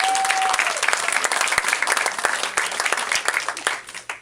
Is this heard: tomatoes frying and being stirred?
no